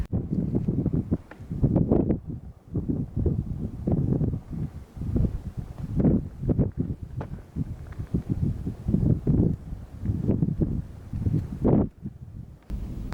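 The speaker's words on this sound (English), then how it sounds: "Yeah, it's kind of windy" Gusty wind buffets the microphone at a scenic viewpoint at the end of a road in a park, coming as uneven low rumbling bursts and roars throughout, with no talking.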